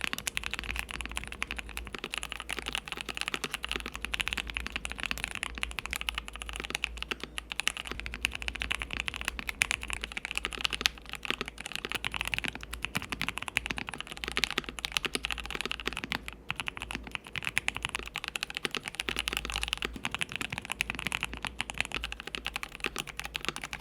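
Steady, continuous typing on QK65 and KBD67 Lite mechanical keyboards with short gaskets, a dense stream of soft clacky keystrokes heard up close without pause.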